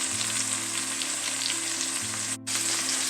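Food sizzles and fries steadily in a pan over medium to high heat for a keto meal, a constant crackling hiss close up, briefly cut off near the end and then resuming.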